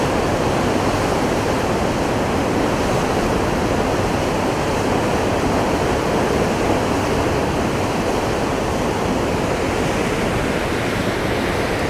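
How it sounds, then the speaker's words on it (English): Upper falls of a waterfall during spring melt, with heavy water pouring over; a loud, constant broadband roar that stays unbroken from start to end. "So that is the upper falls. There's a lot of water going over that."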